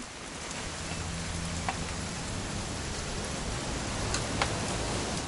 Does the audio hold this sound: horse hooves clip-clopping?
no